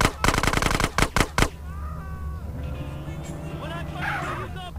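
Rapid machine-gun style bursts in Grand Theft Auto San Andreas, a fast loud rattle of shots early on, followed by a car engine and sirens with a dog barking.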